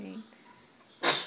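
A single sharp sneeze bursts out near the end, loud and close, after a brief low voice and quiet room tone.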